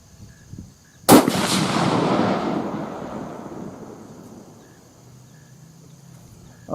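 Single sharp rifle shot fired at a 100-yard target during a Virginia youth deer hunting season, a loud crack followed by a long rolling echo that fades over several seconds outdoors.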